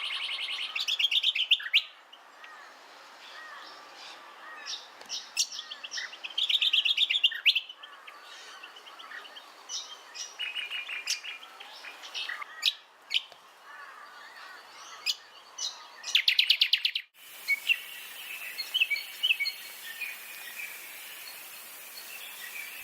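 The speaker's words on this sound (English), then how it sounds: "moist gullies and other dense lowland habitats often resound with the calls of crescent honeyeaters in the cooler months" Crescent honeyeaters call repeatedly in a moist, dense lowland gully, with bright, sharp chirps and short phrases coming in bursts, some close and loud, others fainter, over a soft insect hum and no voices.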